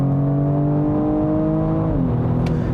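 BMW M235i Gran Coupe under full throttle, its engine holding a steady droning tone from inside the cabin before the pitch drops sharply near the end, as with a gear change.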